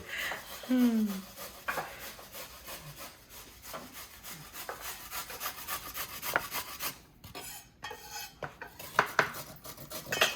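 A knife rubbing and chopping through onion on a wooden board during prep for cassareep shrimp chow mein, with repeated scraping and cutting strokes at close range, uneven in rhythm alongside faint clatter of kitchen utensils.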